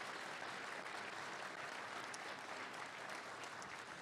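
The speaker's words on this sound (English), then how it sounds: "let's give them a round of applause" Town hall audience applauding steadily for public safety staff, a dense continuous wash of clapping that holds at an even level for about four seconds with no talk over it.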